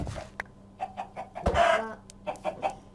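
A Minecraft chicken clucks in a quick, irregular series of short, close clucks, with a louder drawn-out squawk midway.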